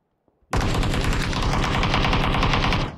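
Sustained automatic gunfire from the PUBG video game bursts in after a brief quiet moment and keeps up as a dense, loud, rapid rattle for over two seconds before cutting off.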